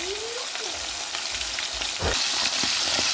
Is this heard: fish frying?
yes